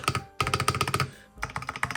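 Rapid keystrokes on a Keychron K2 Pro mechanical keyboard, a clacky burst of even taps, a short pause, then another run of typing, close and clear with no talking.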